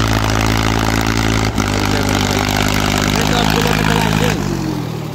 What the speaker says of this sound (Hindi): भाई चल लिया ट्रैक्टर, जोर भी ले रहा है